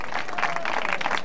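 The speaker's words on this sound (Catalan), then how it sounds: "Un aplaudiment per vosaltres" Audience applause breaks out at a live event in Catalonia, a dense, steady patter of clapping from a crowd, loud and close, filling the whole short moment without pause.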